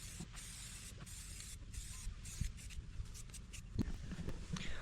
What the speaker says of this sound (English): let me go ahead and get this spray painted